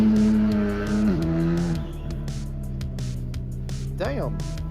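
A rally car at a World Rally Cup stage approaches and passes close by, its engine note rising and falling with gear changes and a sharp tire squeal near the end, while people talk nearby.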